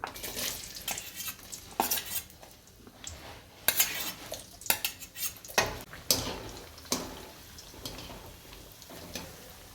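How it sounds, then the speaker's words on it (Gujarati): Pieces of elephant foot yam (suran) dropped into hot oil in a pan for undhiyu, with a soft frying hiss under sharp metal clinks and scraping of a spoon stirring against the pot. "તેલ આપણું ગરમ થઈ ગયું છે તો આપણે પહેલાં નાખીશું સૂરણ"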